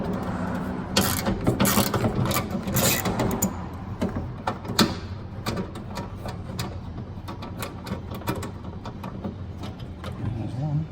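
A hand ratchet works the bolts loose on the trunk latch of a 2006-2010 Dodge Charger, giving close, steady metallic clicking with sharper knocks through the first half, set over a dense mechanical background.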